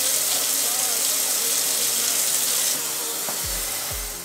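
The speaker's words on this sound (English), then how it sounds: "Now I'm gonna add some water." Water pours steadily into a cooking pot while Congolese fumbwa is being prepared, a continuous broadband rush lasting about three seconds before it stops, followed by a couple of low clunks.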